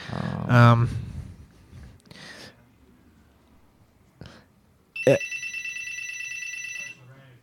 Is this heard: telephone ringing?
yes